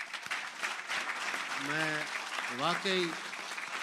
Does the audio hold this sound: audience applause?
yes